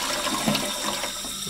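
A toilet cistern fills with water from the supply pipe, a steady hissing, gurgling rush of water, close and continuous, with no talking.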